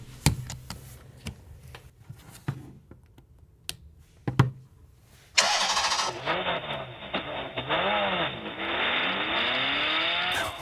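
Scattered clicks and taps, then a sudden bright electronic whoosh from a gaming phone's charging sound effect, rising into a sustained, shimmering synthetic charging tone with sweeping warbles, loud and steady until the end.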